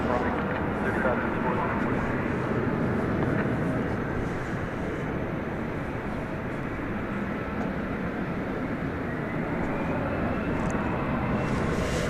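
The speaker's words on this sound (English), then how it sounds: "There, headed into the skies, was American Flight 1104 to Boise, Idaho, an Airbus A321." An American Airlines Airbus A321 takes off from DFW runway 18 left at night, a broad steady engine roar that holds level throughout at a middle distance.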